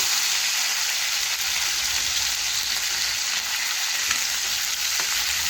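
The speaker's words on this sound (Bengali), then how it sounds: "মাছের এক পাশ ভালোভাবে ভেজে নিয়েছি এখন আরেক পাশ আমি উল্টে নেব" Three fish sizzle loudly in hot oil in a pan just after being flipped for a spicy fish curry, a continuous crackling hiss with no voices.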